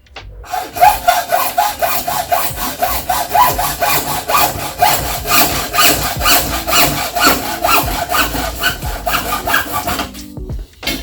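Steady back-and-forth handsaw strokes cut through a piece of a VegTrug raised planter frame, loud and close, with a continuous rasping rhythm for about ten seconds before stopping.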